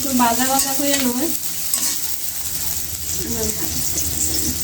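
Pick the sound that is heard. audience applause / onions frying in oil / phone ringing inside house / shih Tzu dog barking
onions frying in oil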